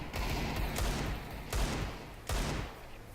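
Desert Eagle pistol shots ring out in a Counter-Strike: Global Offensive match, three sharp, loud, booming reports spaced about three-quarters of a second apart over a dense din of background game noise.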